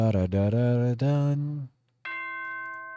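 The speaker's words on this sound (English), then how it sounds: "Ding dong, ding dong." A doorbell-style ding-dong chime sounds as a school announcement in the Danganronpa video game. A loud, voice-like two-note call comes first, then a clear sustained bell tone rings after a brief silence.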